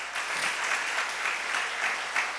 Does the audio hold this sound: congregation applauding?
yes